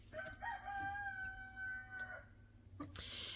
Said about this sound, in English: every time the one down the road crows, the one here crows back at it